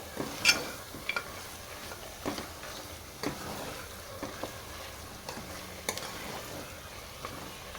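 Mutton masala curry is stirred in a pan with chilli powder, giving scattered scraping and tapping clicks against a low sizzle, fairly quiet and irregular.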